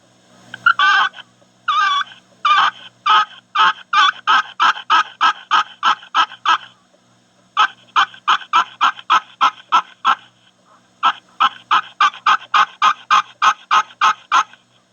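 A push-button friction turkey call imitates a wild turkey yelp. Sharp, close, loud clucking yelps come in three fast rhythmic runs of about a dozen notes each, with brief pauses between runs and no speech.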